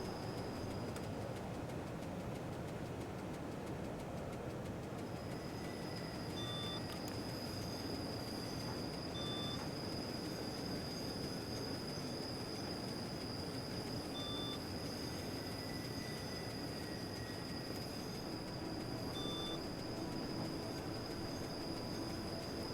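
A Swiss train rumbles steadily on the rails, heard from on board with a constant low roar, a sustained high whine and a few short beeps repeating at intervals.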